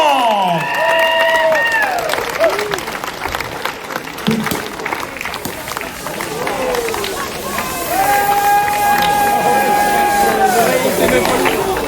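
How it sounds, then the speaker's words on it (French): Crowd applause and cheering at a hill climb podium ceremony in Turckheim-Trois Epis, mixed with a loud announcer's voice and sustained music tones, the clapping steady beneath the busy sound. "je veux que l'on double ces applaudissements"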